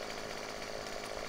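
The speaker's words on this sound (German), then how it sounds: "Ich hole mal die Flex raus." Continuous buzzing whine of a chainsaw in Farming Simulator 2015, cutting off a branch in a forestry area, steady and fairly faint throughout with no talking.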